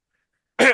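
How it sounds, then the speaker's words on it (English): A short, loud burst of throat clearing comes after near silence, harsh and close, lasting well under a second. "start clearing my throat really loud"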